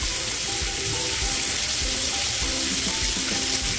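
Prawns fry lightly in a hot pan, giving a loud, constant sizzle and crackle that fills the whole short stretch with no voices.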